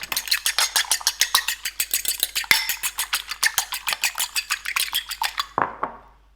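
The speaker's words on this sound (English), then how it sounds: "Give it a whisk." A whisk beats an egg with breadcrumbs in a bowl, a rapid even run of light metallic clicks and scrapes that slows and stops near the end, close and clear with no talking.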